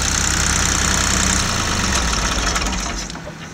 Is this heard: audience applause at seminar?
no